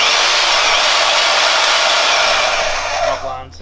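A bandsaw or similar saw held in a vise, switched by a foot pedal, cutting through steel with a loud, steady broadband whine that holds for several seconds before dropping away at the end.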